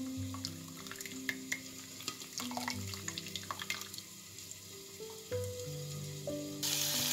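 Onion and flaked white fish frying in a pan, a steady crackling sizzle with scattered pops and utensil clinks, ending in a louder hiss.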